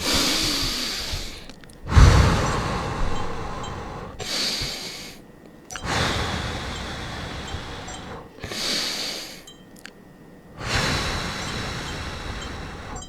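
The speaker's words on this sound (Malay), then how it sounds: "tarik nafas, perut kembung, tegak badan untuk menjana pernafasan yang lebih baik, lebih teratur" Deep belly breaths in a guided breathing exercise, slow inhalations with the body upright, repeating in long rhythmic waves with short pauses between, close and fairly loud, with no talking.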